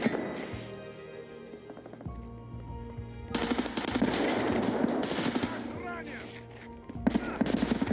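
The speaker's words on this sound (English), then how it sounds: "am I hearing the suppressed gun?" Suppressed gunfire in the Escape from Tarkov video game, with rapid bursts of muffled shots that come and go against a steady game background while a player talks over them.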